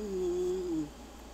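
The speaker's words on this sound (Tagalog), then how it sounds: "Tignan mo yung pusa ko guys." Cat giving a single short meow lasting under a second, close and fairly quiet, in an otherwise still indoor setting.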